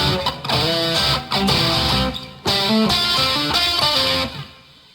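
A distorted electric guitar plays a quick lick of hammered and pulled notes in short repeating bursts, loud and close, with no voices.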